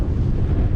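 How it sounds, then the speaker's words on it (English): Steady, loud wind buffeting the microphone on a long road bike ride through windy countryside, a continuous low roar with no break. "You can hear the wind because it's windy."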